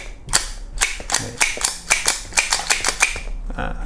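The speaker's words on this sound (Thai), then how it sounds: "เวลา ยิงกระสุนจะ สลัดเปาะเปล่าออกมาทางด้านขวาแบบนี้นะครับ" An ISSC M22 blank pistol fires a rapid string of about a dozen sharp, snappy shots with uneven spacing, close and loud, with no one talking.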